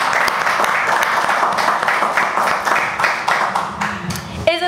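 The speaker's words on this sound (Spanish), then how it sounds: "un aplauso para los Jokers." Applause on a Spanish-language talk show, dense clapping that fills most of the stretch at a steady level, with voices mixed in and a brief tonal burst right at the end.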